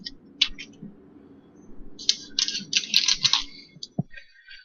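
Typing on a computer keyboard while noting a score during a match, heard as scattered clicks early on, then a denser burst of keystrokes midway, moderately close over a low background hum.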